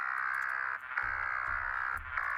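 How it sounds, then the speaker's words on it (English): Bird noises like crow or magpie caws carried over a radio frequency in the video game Signalis, a steady bright tone with several distinct caw-like bursts repeating over a static-tinged background. "going to the frequency that sounds like bird noises doesn't seem to do anything"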